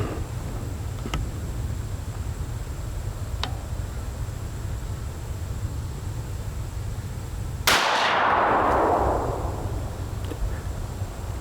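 A single sharp AR15 rifle shot cracks loudly out of a quiet outdoor background, followed by a short decaying echo; faint clicks precede it.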